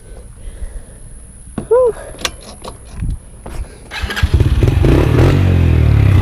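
An ATV four-wheeler, ridden for wheelies and burnouts, first gives scattered clunks and rattles and then starts up, ending in a loud, close, sustained engine drone.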